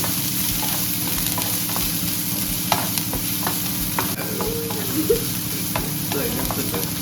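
Vegetables and onion frying in a pan while being stirred, a close steady sizzle with scraping and knocks from the spoon, no talk over it.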